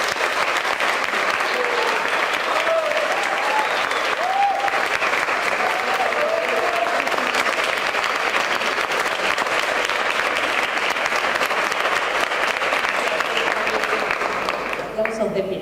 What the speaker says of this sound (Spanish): Aplausos de pie.